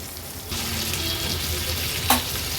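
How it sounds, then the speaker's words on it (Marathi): Pomfret fish frying in oil over a medium flame, a steady close sizzle with a brief louder crackle near the end, no talking. "मागची बाजू पण अशीच आपल्याला मीडियम फ्लेमवर तळून घ्यायची आहे"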